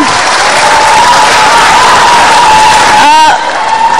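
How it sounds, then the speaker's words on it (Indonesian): A large studio audience at a televised interview with Jokowi and Jusuf Kalla claps loudly and continuously, dense applause with some cheering, while a voice briefly calls out near the end. "boleh kasih tepuk tangan sekali lagi dong Pak Jokowi dan Pak JK"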